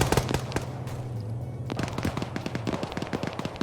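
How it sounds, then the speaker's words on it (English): 113 guns firing in a tactical shooter game, rapid sharp cracks that come in uneven bursts over a low steady engine hum, fairly loud and close with nobody talking. "You're hearing those 113s fire again."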